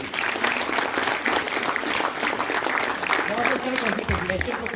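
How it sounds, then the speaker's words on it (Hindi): An audience applauds loudly and continuously, dense clapping filling the whole stretch, with a voice cutting in briefly near the end. "एक बार तहे दिल से जोरदार तालियां"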